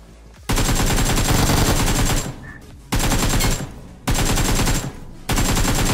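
Loud automatic gunfire from a video game shooter, four long rapid bursts fired in quick succession with brief pauses between them, close and dominant.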